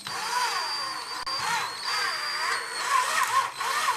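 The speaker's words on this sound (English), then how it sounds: "Let the drill bit do the work." A power drill with a 9mm bit whines steadily at low speed, its pitch wavering slightly as it bores through plastic, close and continuous.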